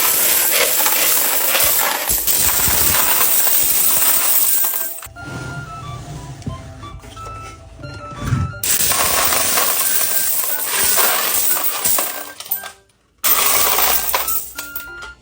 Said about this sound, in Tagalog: Pati din yung 20 pesos coin, pwede na rin siyang ihulog dito.